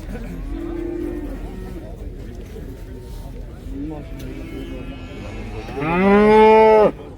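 At a livestock market in Taraz a cow gives one loud, close, drawn-out moo near the end, after quieter lowing and talk amid the general crowd noise.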